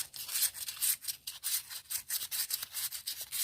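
An old Kamp King pocket knife is sanded by hand to remove rust, a close, crisp rasping in rapid back-and-forth strokes of about three per second, steady and without talk.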